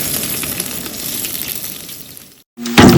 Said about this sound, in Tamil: நல்லா ஆனியன் கோல்டன் ப்ரௌன் வர வரைக்கும் நல்லா ஃப்ரை பண்ணணும்